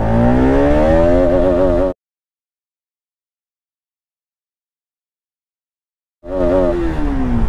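A Bajaj Pulsar RS 200 BS4 motorcycle accelerates hard in first gear, its engine note rising in a loud, close whine, then cuts out to silence before another revving burst begins.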